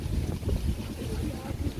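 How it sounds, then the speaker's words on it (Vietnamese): Motorboats run along a river in the Mekong Delta, giving a steady, rumbling low engine drone with wind buffeting the microphone throughout and no clear break in the sound. "xa kia đang có một vài chiếc ghe máy đang chạy lên"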